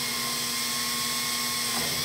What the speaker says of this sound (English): I'm going to drill this spot in,